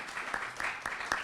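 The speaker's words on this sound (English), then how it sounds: "Y'all need to give them a round of applause" A crowd at a North Carolina bill signing ceremony applauds senators, faint and distant clapping with a few sharper individual claps standing out from the steady patter.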